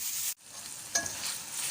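Onions and tomatoes with spices sauté in a pan for an okra dish, giving a steady close sizzle that cuts out briefly and then returns, with one light clink of a utensil and no talking.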